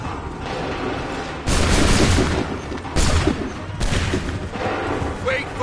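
Volleys of musket fire from massed soldiers in Assassin's Creed 3, with three loud crackling bursts erupting in succession over a steady rumbling battlefield din and shouting voices.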